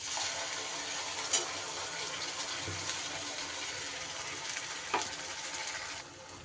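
Spice paste with turmeric and chilli frying in oil, a continuous loud sizzle with a few spoon scrapes and knocks against the pan as it is stirred, no talking.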